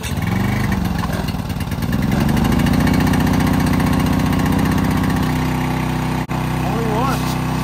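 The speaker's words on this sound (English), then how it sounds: "now we're going to start the generator so we can start the air fryer to get the wings going" A portable generator at a creekside campsite catches and runs, its small engine climbing from a sputtering start into a steady, loud mid-pitched drone with slight wavering in the pitch.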